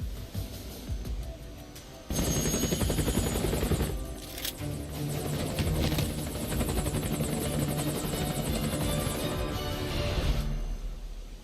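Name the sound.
helicopter in the video game Metal Gear Solid: Peace Walker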